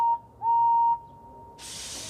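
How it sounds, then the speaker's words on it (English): A steam locomotive whistle from the Trainz train simulator game sounds a short clear tone, then a longer sustained blast, followed by a soft hiss of steam rising at the end. "Henry blew his whistle"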